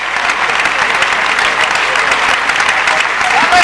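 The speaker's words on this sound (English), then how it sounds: "The Polish crowd are really giving their heroes, hero and heroine, a big round of applause here" Polish crowd at a 2006 World Championship badminton mixed doubles match breaks into sustained, loud, dense applause that fills the whole stretch evenly without letting up.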